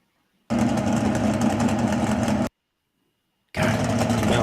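Mountain motor drag racing cars' engines roar in two loud, close bursts, about two seconds and then a second later another, each a thick, steady, sustained drone separated by near silence.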